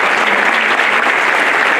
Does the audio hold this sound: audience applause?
yes